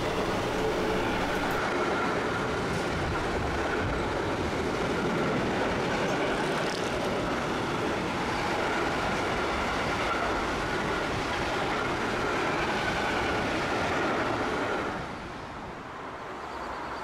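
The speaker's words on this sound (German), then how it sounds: "Und ein alter ICE, Baureihe 401." An old ICE high-speed train of series 401 rolls past as a steady, loud, broadband rumble and rush that holds for a long stretch, then eases slightly at the end.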